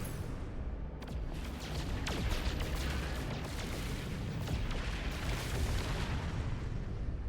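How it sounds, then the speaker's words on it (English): A rocket launcher fires in the space game No Man's Sky, giving dull booming blasts that roll over a steady, loud background rumble, with sharp bursts near the start and again midway. "Oh, I have a rocket launcher on this one."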